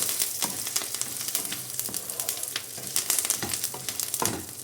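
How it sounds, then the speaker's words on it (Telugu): Curry leaves and spices fry in hot oil for a stuffed ridge gourd dish, a close, steady sizzle broken by sharp crackles and the scrape of stirring, with no voices. "ఇవన్నిటిని కూడా గోల్డెన్ బ్రౌన్ కలర్ వచ్చే వరకు దోరగా వేయించుకోవాలన్నమాట"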